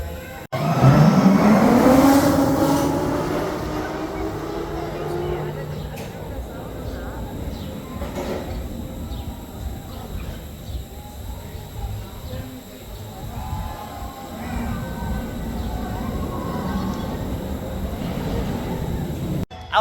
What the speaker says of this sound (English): you get that noise, don't you, of the Ferrari car going down the track